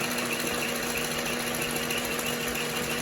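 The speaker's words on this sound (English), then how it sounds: "make sure that the machine is running smooth" A Singer 20U sewing machine runs steadily, a continuous even mechanical whir with a low hum, close and constant throughout with no pauses and no talking.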